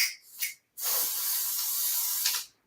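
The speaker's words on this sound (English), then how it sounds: "all I'm going to do is take my little adhesive spray" Adhesive spray hisses from a can onto the edges of an embroidery hoop, first two short bursts and then one long continuous spray, close and fairly loud.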